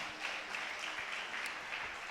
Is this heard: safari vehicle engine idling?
no